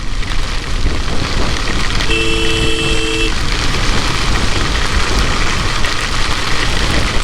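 Heavy rain pours during a motorcycle ride on an all-India road trip, a loud, dense, continuous hiss with engine and traffic noise under it and a brief vehicle horn toot partway through.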